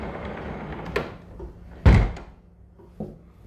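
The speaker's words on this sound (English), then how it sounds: "it's this barn style door that just slides here" A barn-style sliding bathroom door in a refurbished hotel room rolls and thuds, with a sharp loud bang near the middle and softer knocks before and after.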